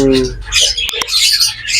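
Harsh squawks and chirps from sick birds in a busy, noisy mix, with a couple of sharp clicks in the middle.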